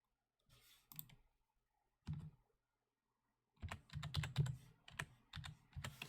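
Typing on a computer keyboard, close and quiet: a few short bursts of key clicks, a pause, then a longer run of rapid clacking taps, with no voice over it.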